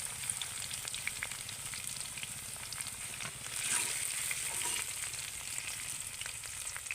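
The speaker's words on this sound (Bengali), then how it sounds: "আর এইভাবে কিন্তু ভালো করে ভেজে নিতে হবে" Okra frying in oil in a pan gives a soft, steady crackling sizzle throughout, fairly faint, with occasional stirring scrapes and a slightly louder stretch midway.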